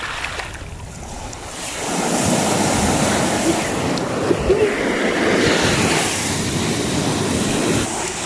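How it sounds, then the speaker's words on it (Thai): Strong sea waves crash and surge against the shore in a steady loud roar that builds after a quieter start, with wind buffeting the microphone and no talking. "คลื่นแรงมากเลยค่ะทุกคน"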